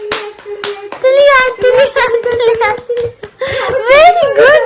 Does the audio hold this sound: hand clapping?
yes